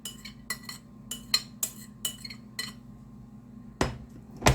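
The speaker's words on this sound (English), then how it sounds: "we're going to go ahead and get this rice in the pan" Day-old rice being worked in a frying pan for fish fried rice: a series of sharp metallic clinks and scrapes of a utensil against the pan, irregular, close and fairly quiet.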